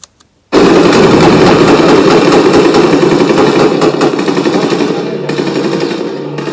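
Heavy, sustained gunfire from a war film bursts in suddenly after a short silence and roars on as a loud, continuous wall of rapid shots. It eases slightly toward the end.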